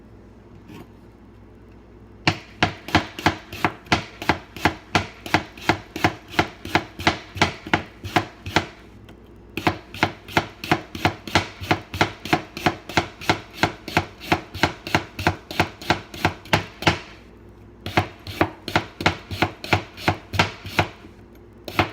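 A knife chops cucumbers and other vegetables for namasu salad on a board in fast, even bursts of sharp, loud taps, with two brief pauses between runs.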